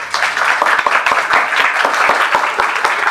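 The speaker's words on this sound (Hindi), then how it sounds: "हो तो एक बार तालियां बजा दो।" Loud, close audience clapping at the end of a seminar on exam stress, a dense crowd of hands with a few sharper individual claps standing out, steady for a few seconds.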